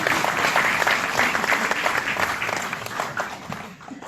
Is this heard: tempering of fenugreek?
no